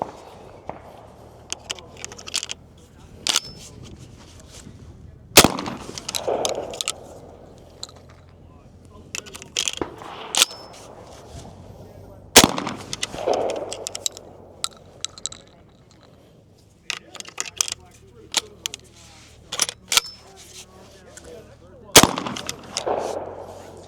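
Shotgun blasts from a Mossberg SA-20 fitted with a shell catcher ring out as sharp, loud reports at irregular intervals, with quieter handling noises between them.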